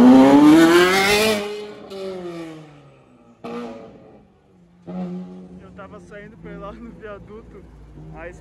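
A sports car pulls away with a loud, rising engine roar that fades within two seconds. Talk and other street traffic follow at a Sunday car-spotting meet at a São Paulo gas station.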